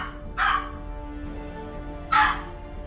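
Two separate barks from a pet dog, fairly close and loud, spaced well apart over a low steady room hum with no talking.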